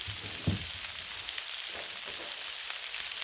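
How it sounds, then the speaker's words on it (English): Onions and peppers frying on a Blackstone griddle give a steady, even sizzle with faint scrapes from stirring, heard close up with no one talking. "Onions and peppers smell so good on the griddle."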